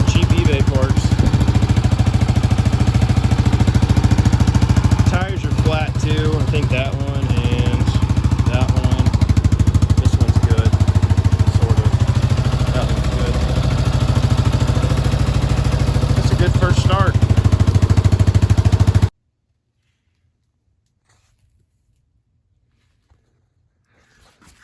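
A Yamaha 350 ATV, rebuilt on a budget with cheap eBay parts and sitting on flat tires, idles with a steady, close engine rumble for about nineteen seconds before cutting to near silence.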